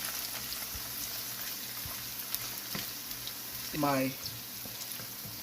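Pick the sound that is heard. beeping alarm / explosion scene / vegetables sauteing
vegetables sauteing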